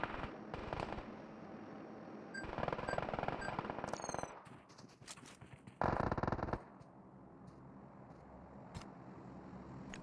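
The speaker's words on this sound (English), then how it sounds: "Firing sounds detected." Gunfire in a PUBG-style battle royale game in Arctic Mode: sharp bursts and shots at varying distances over a steady ambient bed, with a dense loud burst near the end.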